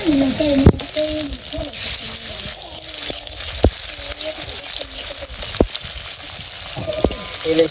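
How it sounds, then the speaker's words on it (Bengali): Hilsa fish frying in hot oil in a village kitchen, a steady close sizzle running throughout with occasional clinks of a utensil, while a person talks over it. "আমরা তেল দিয়ে মাছ ভাজি খাবো"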